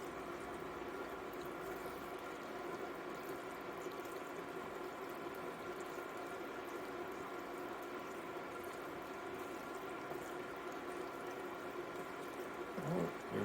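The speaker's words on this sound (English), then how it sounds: "we're gonna continue to let this simmer because the rice is almost done" Pelau rice simmering in a covered pot, a steady low bubbling and watery hiss that holds evenly throughout, close and moderately quiet, with a brief faint knock near the end.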